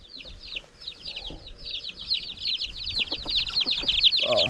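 Native chickens and chicks on a farm fill the air with rapid high peeping and soft clucking, dense and continuous, close to the listener with a louder squawk near the end.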